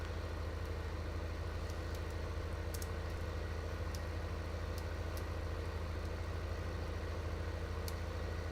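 A tractor's engine idles steadily while mowing in the farming game Farming Simulator 15, a continuous low droning hum with faint intermittent ticks above it, constant in level and without speech.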